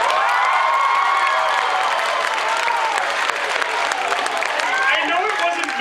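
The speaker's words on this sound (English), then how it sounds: "Big round of applause for water." An audience at a comic convention cosplay contest breaks into loud, sustained applause with cheering and whoops, a dense crowd roar that holds steady for several seconds.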